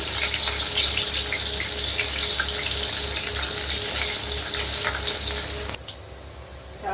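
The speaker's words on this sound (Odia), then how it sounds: "ଏ ପକେଇଦବା ଗରମ ମସଲା ଆଉ କଟା ପିଆଜକୁ ଦବା ଭଲସେ ଭାଜି।" Garam masala and chopped onion sizzle steadily in hot oil while being stirred, a continuous loud frying hiss with scraping, dropping off abruptly near the end.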